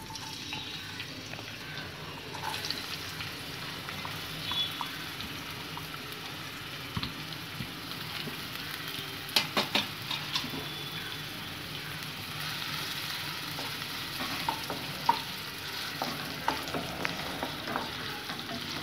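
Coarsely chopped large onion frying in hot oil for a prawn pepper fry. A steady, close sizzle runs throughout, with scattered light clicks and scrapes from the pan.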